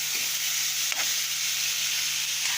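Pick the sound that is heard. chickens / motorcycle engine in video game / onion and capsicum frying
onion and capsicum frying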